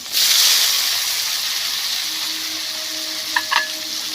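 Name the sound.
frying onion and tomato with black cumin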